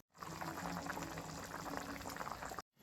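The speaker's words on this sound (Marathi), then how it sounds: "छान उकळी आले, कांदा पण शिजलेला आहे" Steady bubbling and simmering of a pot of stuffed onion curry boiling on the stove, continuous and close, with no voices.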